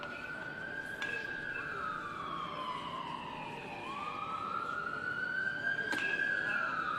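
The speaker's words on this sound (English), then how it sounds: "There's the second time we've seen the sirens." A wailing emergency siren sweeps up and down at a high school all-star baseball event, clear and steady at moderate distance with faint crowd ambience beneath, and no talk.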